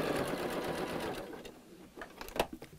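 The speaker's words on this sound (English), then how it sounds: "Just make sure I'm only sewing the two pieces together." A sewing machine steadily stitches two burlap pumpkin pieces together, running in a close, continuous whir that slows into intermittent bursts near the end.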